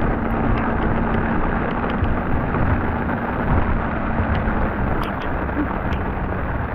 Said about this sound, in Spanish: Aquí vamos en la lluvia.